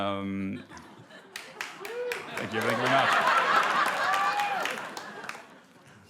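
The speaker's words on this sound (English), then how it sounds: "That wasn't a very long applause." Brief, sparse clapping and chuckling from a comedy club audience after a stand-up punchline, a thin smattering rather than full applause, with the comedian talking over it.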